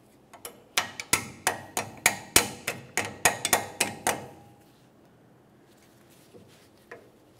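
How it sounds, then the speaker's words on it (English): Hammer blows peen over a cotter pin on a 1994-2002 Dodge Ram 2500 front axle nut, about fifteen sharp metallic strikes in a quick uneven rhythm, close and loud, then a few scattered taps. "Slide that right on through and peen it over so there's no way this nut can loosen up on you"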